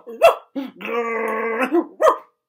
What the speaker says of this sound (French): Tous les chiens de la ville recommencent à aboyer pour lancer le message.